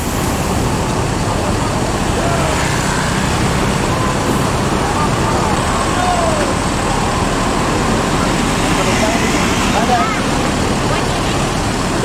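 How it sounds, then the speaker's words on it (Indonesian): A crowded bus terminal at Kampung Rambutan with several ANS coaches arriving, a steady loud wash of engine and roadway rumble filling the scene, with faint voices mixed in throughout. "total 7 bis ANS masuk kali ini di terminal bus kampung rambutan"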